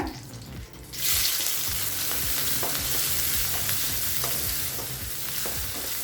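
Steady, close sizzling of chopped shallots and curry leaves frying in hot oil, with a sharp surge as they hit the pan and occasional stirring clatter, no talking.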